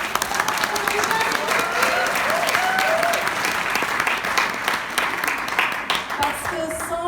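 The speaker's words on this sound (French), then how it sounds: "j'aimerais que vous vous applaudissiez" An audience at a humanistic psychotherapy colloquium breaks into steady, dense applause that holds for several seconds, with a voice carrying faintly over the clapping.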